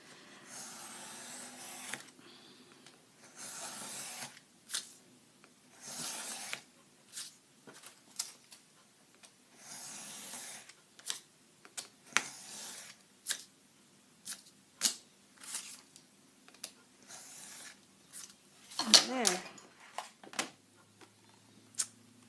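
Scissors cut through a small stack of paper sheets in a series of separate crisp snips and rustles, spaced out irregularly with quiet gaps between them and one longer crinkling pass.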